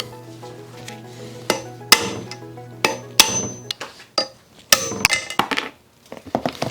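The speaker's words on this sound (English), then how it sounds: "I'm going to hit it again with the hammer." A hammer strikes a Jeep engine valve repeatedly during cylinder head disassembly, with sharp, ringing clangs at irregular intervals, loud and close, with a low hum underneath.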